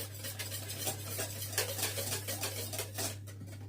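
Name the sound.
stirring custard in a pan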